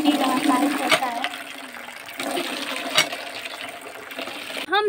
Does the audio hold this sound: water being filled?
yes